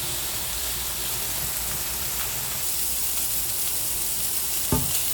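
Small shrimp frying in mustard oil in a pan, a soft continuous sizzle and crackle, close but fairly quiet, with a brief knock near the end.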